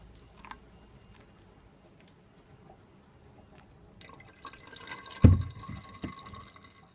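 Blackberry and pineapple juice is poured through a strainer, starting as faint drips and then swelling into a short, louder splashing pour near the end.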